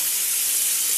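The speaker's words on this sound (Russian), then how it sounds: "я пошла в душ, потому что я вся сырая" Water from a shower runs in a steady, loud, unbroken hiss that fills the whole stretch.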